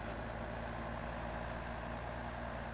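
An OBS 3500 truck with a crew mod climbs a small hill in SnowRunner, its engine a steady, low, continuous drone throughout, faint and unchanging with no voices.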